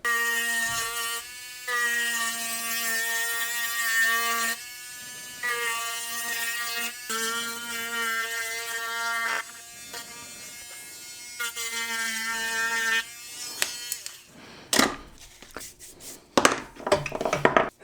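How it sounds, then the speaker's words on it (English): A rotary sander works over a leather card holder, a loud droning buzz that starts and stops in several bursts of a few seconds each, followed by a few clunks as it is set down. "take my rotary sander here and sand the outside of this and the underside"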